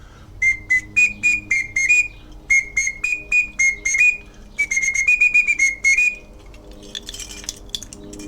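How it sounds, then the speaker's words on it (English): A wooden whistle carved from a stick, from Tanzania in Africa, blown in a series of short, shrill, close toots in quick rhythmic groups, with a couple of longer runs and a brief pause between them. "This whistle comes from Africa, a place called Tanzania, and it's made out of a stick."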